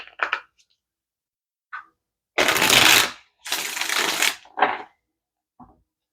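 Tarot cards being shuffled: two long, loud riffling bursts in the middle, bracketed by short card taps and flicks, close up with no talking.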